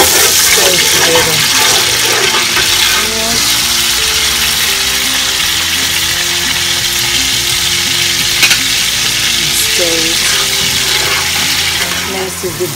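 Locust bean (iru) and pepper frying in palm oil in a pot over a fire, a steady loud sizzle with hissing crackle and occasional stirring clinks throughout.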